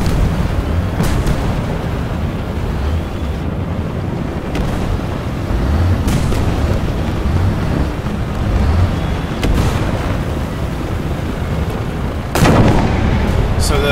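Tank cannon fire and battle noise in the tank combat video game War Thunder, with a continuous rumbling engine bed and several sharp booming shots, the loudest near the end.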